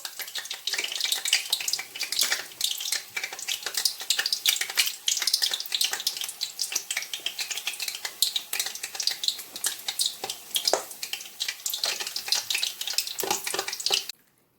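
Puff puff dough fries in hot oil with a dense, crackling sizzle that stays steady and close for the whole time, then cuts off abruptly at the end.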